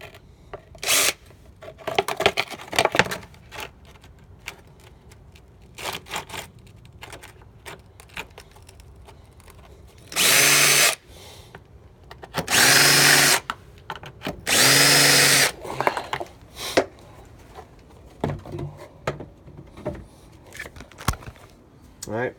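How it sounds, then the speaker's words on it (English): Several bursts of a power drill whirring at high speed, each a second or so long, with quieter clicks and handling noises between them. "so now I got my pre-drill holes"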